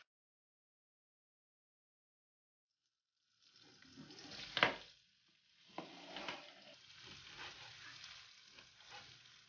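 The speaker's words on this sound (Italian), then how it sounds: "aggiungiamo la salsiccia pezzente ed iniziamo a farla rosolare" Salsiccia pezzente sausage starts browning in extra virgin olive oil after a few silent seconds, a soft steady pan sizzle with a sharp crackle and occasional utensil clatter close by.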